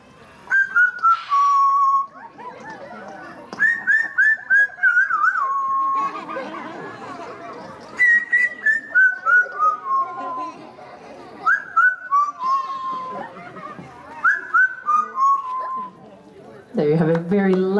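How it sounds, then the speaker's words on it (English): Trained show bird at an African Lion Safari bird show whistling a made-up tune, with repeated descending whistled phrases separated by short pauses, clear and fairly close over crowd noise and a voice near the end. "as he whistles for you, it is different every presentation"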